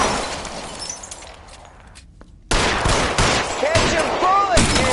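Gunfire in L.A. Noire, a 1940s Los Angeles crime video game: after a muted, fading stretch, loud sharp shots burst in abruptly and repeat, with glassy crashes and ringing among them.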